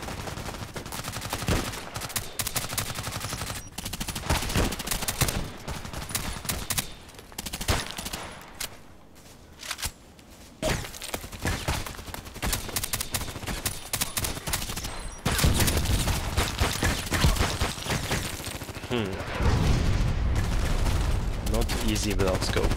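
A VSS Vintorez rifle fires in a video game, its shots cracking repeatedly through a busy game soundscape, some isolated and some in quick runs, loud throughout with a player's voice at times.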